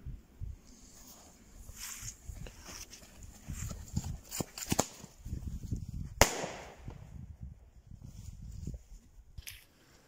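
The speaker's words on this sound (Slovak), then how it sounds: "Domáca výmetnica." A homemade firework launcher goes off outdoors during holiday fireworks, giving a series of sharp cracks and pops of varying strength over low rumbling background noise, with one louder bang partway through.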